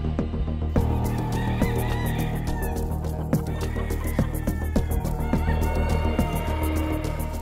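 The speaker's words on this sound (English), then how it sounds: "This is a rooster who unfortunately has already been fought." An injured rooster at a cockfighting site in North Carolina clucks amid a dense, noisy flock of chickens, steady clatter and scattered sharp clicks filling the scene at close range.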